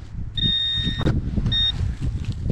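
Two steady high-pitched electronic metal detector tones signal a conductive target, one long and one shorter, over a low rumbling background of movement and handling.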